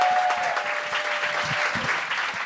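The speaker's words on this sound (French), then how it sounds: "vous devez applaudir jusqu'à temps que la personne prenne le micro en main" A studio audience at a televised comedy talent show applauds steadily as a comedian walks on stage, dense continuous clapping at moderate distance with no pauses throughout.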